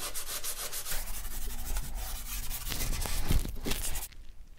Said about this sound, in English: I'm going to go all around the toilet pretty quick to just clean up any old gunk before we put new caulking in